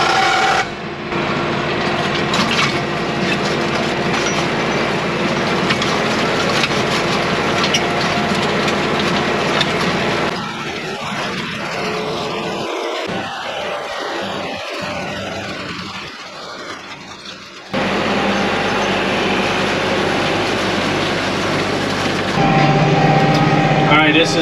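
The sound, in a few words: seed drill planting a fall food plot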